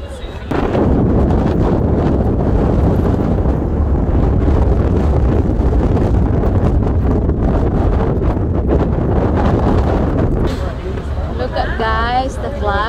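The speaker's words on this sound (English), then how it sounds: "Guys, the flag is very, very windy here." Strong wind buffets the microphone on the deck of a cruise ship passing the Golden Gate Bridge, producing a loud, continuous roar. A brief warbling tone appears near the end.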